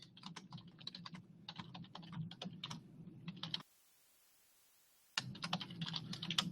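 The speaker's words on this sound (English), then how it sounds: "I'm just going to type it in here." Keystrokes on a computer keyboard typed in quick bursts of clicks over a low steady hum, pausing into near-silence for a second and a half before the typing resumes.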